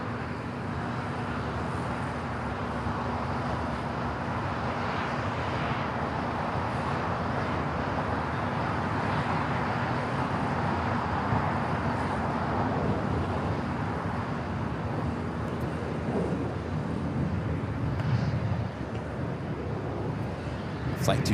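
A Boeing 787-9 Dreamliner airliner rolling toward runway 25 Right at LAX for a Shanghai departure gives off a steady, broad jet roar that stays even throughout, with a voice talking over it.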